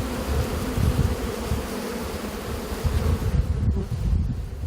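Honeybees swarm around a migratory beekeeper's hives, a dense, continuous buzzing that stays close and steady throughout, with no voices.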